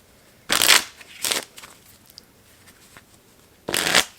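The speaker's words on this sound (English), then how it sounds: "We'll put the 9 of diamonds back in the deck and we'll shuffle." A deck of playing cards being shuffled, with three quick riffling bursts, the first and last strong and crisp and the middle one softer, separated by near silence.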